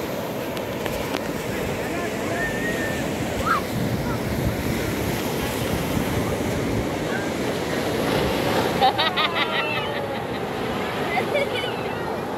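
Continuous roar of ocean surf breaking on Pantai Depok Indah beach in Pekalongan, Indonesia, with gusty wind buffeting the microphone throughout.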